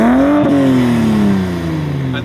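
Toyota four-cylinder engine in a Nissan S15 on its old exhaust, revving loudly up and then settling back down, with a strong droning note that sweeps upward and falls away over a couple of seconds, close and alone.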